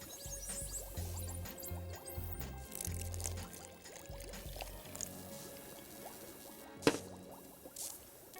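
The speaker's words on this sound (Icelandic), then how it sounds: "Það sem við gerum núna að við bætum vatninu ofan í" Water is poured little by little into a slime mixture, a faint trickling and dripping with small splashes and a brief louder clatter near the end, recorded quietly at close range.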